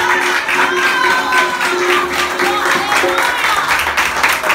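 A church congregation applauds steadily and loudly throughout, with a dense wash of claps mixed with voices and some tonal sounds in the room.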